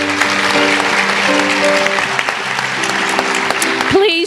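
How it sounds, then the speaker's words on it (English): An awards ceremony audience applauds students, steady crowd clapping throughout with sustained musical tones playing underneath and a voice breaking in at the very end. "join me for another round of applause for our students from Willow Creek"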